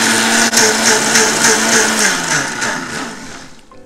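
A kitchen mixer grinder (mixie) whirs loudly with a little water sloshing inside its lidded jar, a steady high motor drone that slows and winds down toward the end.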